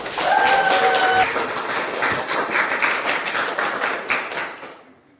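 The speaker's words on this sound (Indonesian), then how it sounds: "Mari kita berikan tepuk tangan yang meriah untuk peserta pertama kita, Evelyn Murray." An audience claps for a contestant on stage, a lively burst of many hands that holds steady, then thins and fades away near the end, with a brief tonal sound briefly ringing out early on.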